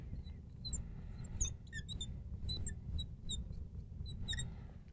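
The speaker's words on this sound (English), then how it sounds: "All right, I'm done with this squeaky green. Woo, that's some squeakiness." Squeaky green felt-tip marker writing on a whiteboard during a chemistry lesson, giving repeated short high squeaks in quick irregular bursts over a low steady room hum, fairly faint and with no talk.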